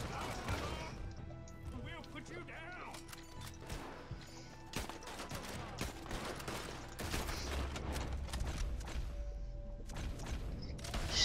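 Bolt-action rifle gunfire in a video game, heard as scattered sharp shots and crashing impacts amid busy game noise, with voices talking over it.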